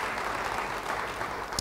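A church congregation clapping together during a sermon, a dense, steady wash of applause from many hands with a faint voice near the end.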